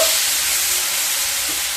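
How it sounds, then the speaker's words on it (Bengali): Paste from two medium onions fries in a pan for a fish curry, giving a loud, steady, dense sizzle that fills the short stretch close up, with only a faint stirring scrape. "দুটো মিডিয়াম সাইজের পেস্ট করে নেওয়া পেঁয়াজ পেঁয়াজগুলোকে হালকা ভেজে নেব"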